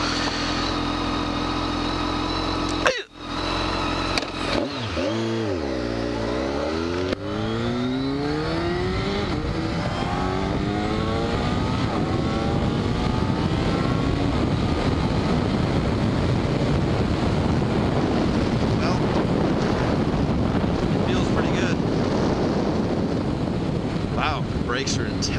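A 2014 BMW K1300S with a big-bore inline-four engine is ridden hard. Its revs climb and drop through sweeping gear changes, then settle into a sustained high-speed drone buried in heavy wind rush.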